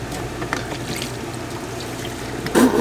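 Coolant pouring into the cooling system of a Ford F53 with a 6.8L Triton engine, a close, steady liquid trickle and gurgle, ending in a brief louder splash.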